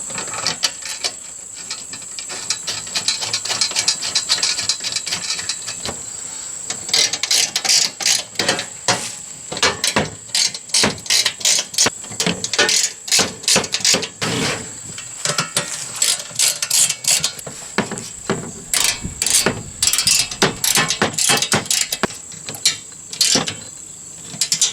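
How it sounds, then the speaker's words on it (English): Ratchet driving bolts with washers to fasten Rough Country tube fender flares on a Jeep Wrangler, with loud, close rapid clicking in repeated bursts over a steady high hiss and no talk. "Now I'm going to take these using a washer and the bolt to match and bolt these on."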